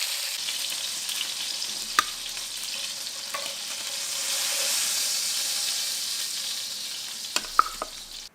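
Venison shanks brown in a hot pan with a steady, moderately quiet sizzle and hiss, broken by a few sharp pops and clicks near the start and end.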